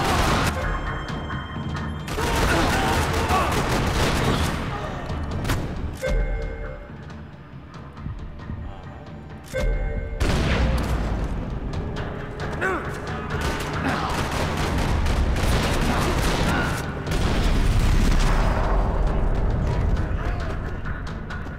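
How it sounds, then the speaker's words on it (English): Gunfire from the video game Max Payne 3 in a parking lot shootout, repeated loud bursts and volleys of shots with crashes and booms, rising and falling in intensity and briefly dropping away midway before resuming. "Another parking lot rattling with gunfire."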